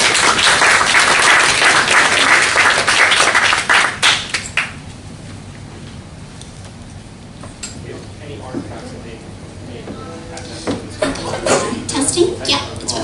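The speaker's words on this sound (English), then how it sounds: "Round of applause, please" Audience applause at an academic conference session, loud dense clapping for about four seconds, then fading into scattered claps, shuffling and murmured talk, with a second smaller burst of clapping near the end.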